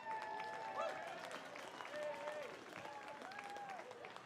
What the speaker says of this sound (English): Bat Boy getting a round of applause